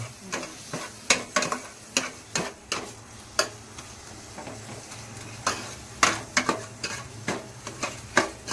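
Ginger garlic paste fries with sautéed onions in a pan for pav bhaji, with a steady close sizzle and frequent rhythmic scrapes and taps of a stirring spoon against the pan.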